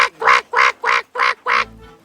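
A duck quacking close by, five loud evenly spaced quacks in quick succession.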